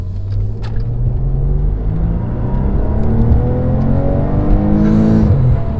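A 2017 Maserati Quattroporte engine pulls hard under acceleration, its loud, close rising drone climbing steadily before a gear change near the end, heard from inside the car with no talking.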